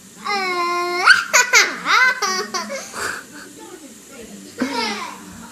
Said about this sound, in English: Elena, let me hear your grito.